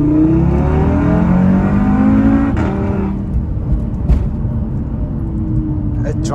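A built Audi RS3 engine pulls hard while driving, its rising tone climbing through the revs before easing off at a gear change, then droning on steadily from inside the car.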